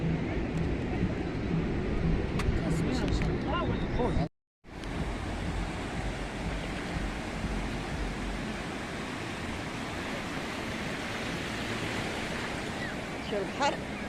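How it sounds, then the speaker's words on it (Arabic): Sea waves wash onto a sandy beach in a steady, broad surf roar mixed with wind buffeting the microphone, broken by one brief total dropout partway through. "شو البحر"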